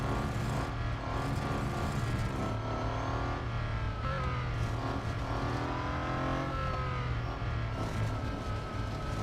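Engine of a Centodici race car in the mobile racing game Real Racing 3, a steady loud droning whine that rises and falls through gear changes and revs for several seconds without pause, no talking.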